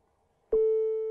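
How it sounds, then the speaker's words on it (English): A pure sine-wave test tone produced by C++ audio code switches on abruptly after near silence and holds steady and loud at one pitch, with faint overtones. "that's a sine wave"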